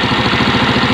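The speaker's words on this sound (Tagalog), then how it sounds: "parang galit na galit yung makina, yung ugong na" A carbureted engine idles too high, a loud close, steady droning hum with a fast even pulsing throb and no voices.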